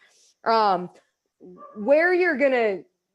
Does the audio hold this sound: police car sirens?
no